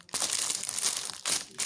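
Plastic packaging holding two face masks from a Shein order crinkles and crackles loudly up close in several handled bursts, with no talk.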